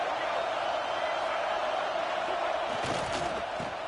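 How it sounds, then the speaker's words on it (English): A large football stadium crowd roars in a sustained, distant wash of cheering that swells slightly toward the end, with a commentator's voice talking over it. "This crowd ready to make its presence known."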